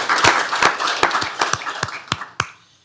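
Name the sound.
applause at county commissioners court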